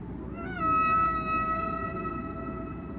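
A humpback whale song rings out underwater, a long tonal cry that rises briefly then holds a sustained, fairly clear pitch over a low background hiss.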